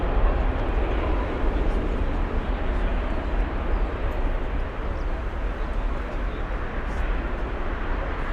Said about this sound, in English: 747-8 currently taxiing. Right now taxiing to runway 25 center.